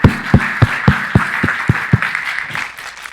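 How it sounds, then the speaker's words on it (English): Applause for the panelists at a well-being event, loud and close, with regular strong claps about every third of a second that thin out and fade over the last second. "Big round of applause for our panelists today."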